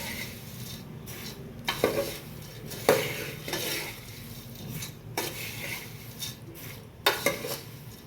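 A spoon keeps stirring puffed rice (mamra) roasting in a pan, producing a continuous dry rustling with a soft sizzle and sharp clinks against the metal every second or so, close and steady.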